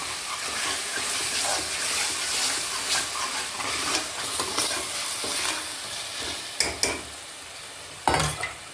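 Masala frying in a pan while being stirred, with a steady sizzle under scraping strokes and a few sharp utensil clinks toward the end.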